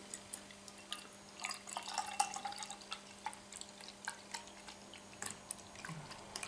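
Bass Finest Ale, an English ale, pours quietly into a glass, giving soft gurgles and fizzy trickles in small irregular bursts, faint and close.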